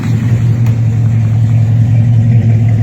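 A 1970 Chevy Monte Carlo engine produces a loud, steady, low rumble, heard close with an even idle and no voices over it.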